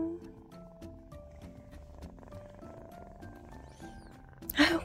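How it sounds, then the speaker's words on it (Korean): A kitten purrs loudly with a steady rumbling drone under soft music, and near the end a louder burst of noise cuts in. "골골 소리 크기도 하다."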